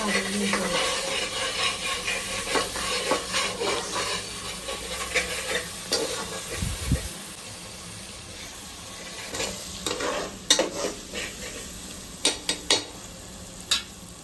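Chicken masala fries in hot oil while a spoon stirs it, giving a steady close sizzle with scraping strokes and sharper clatters toward the end.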